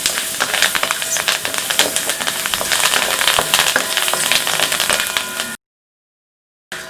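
Oil sizzles and crackles steadily in a pan as ingredients roast with curry leaves for instant idli flour, a dense continuous spattering that cuts off abruptly near the end.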